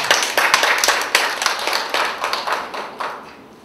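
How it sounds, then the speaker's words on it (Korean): An audience claps to welcome a lecturer at the opening of a literature therapy research centre at Seoul Women's University. The applause is dense and steady, with crisp individual claps, and tapers slightly toward the end. "박수로 환영해 주시기 바랍니다"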